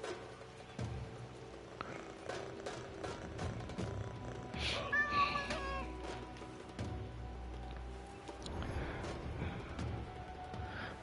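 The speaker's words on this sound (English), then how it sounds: "You should always have time to pet a kitty." Domestic cat purring steadily while being petted, a soft continuous low rumble running throughout with some handling rustle and faint background noise.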